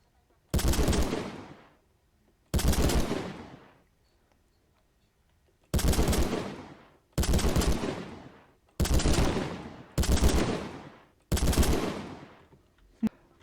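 Seven loud bursts of automatic gunfire from hip-fired guns in a Minecraft Create and Conquer modpack, each rapid volley lasting about a second and separated by short silences, with no talking.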